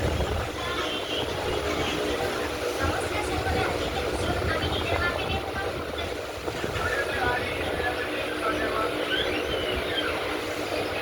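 Inside a train running at night past Balasore, heard as a steady, close, broadband rumble and rattle of the carriage that stays even and continuous throughout.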